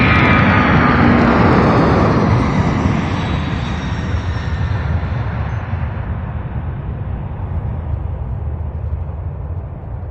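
A Boeing 727 with smoky jet engines at a busy cargo airport, roaring loud and close at first, then fading slowly as it moves off into the distance.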